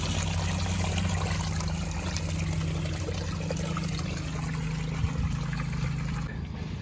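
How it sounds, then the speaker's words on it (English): Water draining steadily out of an Intex Ultraframe above-ground pool during closing, a continuous rushing trickle with a low steady hum underneath, even in level throughout. "And then I'm going to open this back up. And we start draining out."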